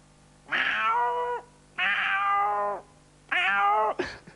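A voice mimics an aroused female cat with three drawn-out, whining meows at a steady pace. Each is close and evenly loud and ends with a quick downward slide. A brief breathy sound follows at the end.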